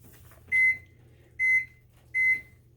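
A microwave oven reheating leftover mashed potatoes gives three evenly spaced, clear electronic beeps, loud and close against a low, quiet hum.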